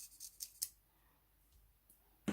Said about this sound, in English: you get your scissors ready in case you need to cut part of it off